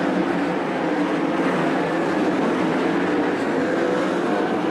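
Sprint car engines at Attica, with Jason Johnson Racing's number 41 among them, give off a steady, loud roar that holds without a break as the cars run the back straightaway.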